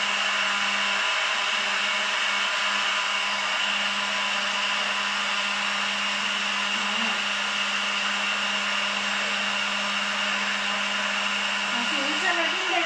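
Avocado mayonnaise with a splash of vinegar whirring in an electric blender, a steady, loud motor drone that holds unbroken from start to finish.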